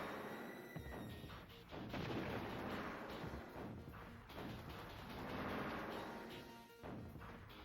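Homing missiles fire repeatedly in the C: The Contra Adventure video game, making a dense, continuous barrage of loud blasts and explosions with no speech.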